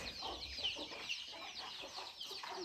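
Native country chickens cluck in a busy backyard coop, several soft overlapping calls close by with steady rustling and no talk.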